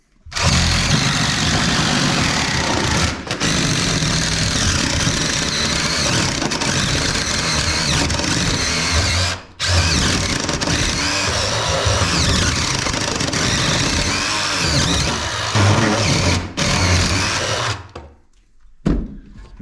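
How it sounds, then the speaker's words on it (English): A power drill bores holes through a tiny off-grid cabin wall, a loud continuous whirring grind in long bursts with short pauses between them, ending as the motor winds down. "So now let's drill some holes."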